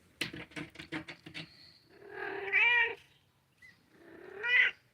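A cat meows twice in long, drawn-out calls, close and clear, after a quick run of light tapping clicks; no one speaks.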